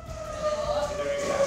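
A siren sounds during a school earthquake drill at a university in Dagupan City, a steady wailing tone heard at moderate distance under faint background noise.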